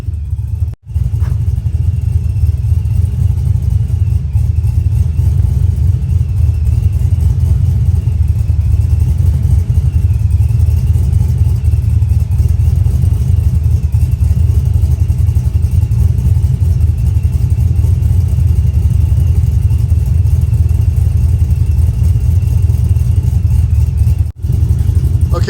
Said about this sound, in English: This is basically your natural sounding lope of the cam.